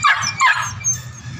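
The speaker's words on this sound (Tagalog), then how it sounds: "Kumaingay guys kasi yung aso namin yun." A pet dog barks several times in close succession at a home under renovation, sharp loud yaps near the microphone with short gaps between them.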